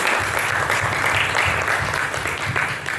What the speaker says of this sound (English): quick applause for the panel here